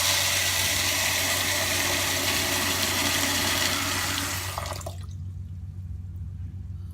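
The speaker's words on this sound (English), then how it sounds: "We'll wash the beans." Dried beans being rinsed in water for a Nigerian beans dish, a steady close splashing and running-water wash that cuts off sharply near the end, leaving a low hum.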